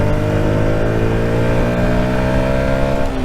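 A Yamaha MT 125 motorcycle engine revs hard and pulls through the gears past 6000 rpm, a steady loud close-up drone with rising pitch and no talking.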